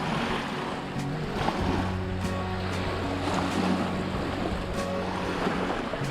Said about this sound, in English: waves are kicking up quite a bit